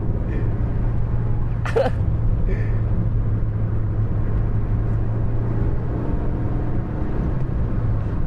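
A Renault Twingo cruises in fifth gear during a Twingo race, heard from inside the cabin as a steady, even low engine and road rumble that holds without pause, with a brief faint clatter partway through.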